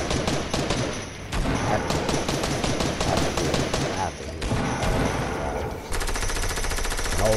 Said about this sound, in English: Oh my god, I'm getting shot in the back!